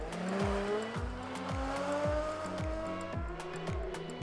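Andros Trophy race car cornering on an ice track in Andorra, its engine revving hard with rising pitch and rhythmic gear-change drops, loud and close, with tyre noise over steady crowd and circuit ambience.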